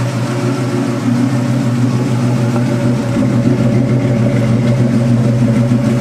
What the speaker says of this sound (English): That's the sweet purr of Ford's 289 High Performance 4-barrel V8.